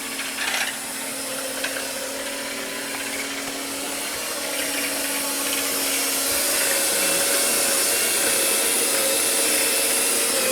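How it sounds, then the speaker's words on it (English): Power drilling of screws from a damaged Tiara boat transom door, a steady loud whirring grind with a sustained tonal hum, running continuously and growing slightly louder toward the end. "they got to drill the screws out"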